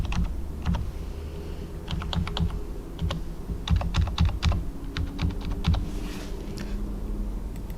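Fingers tap out a card number on a computer keyboard, a steady run of crisp keystrokes in short bursts over a low background hum, close and moderately loud.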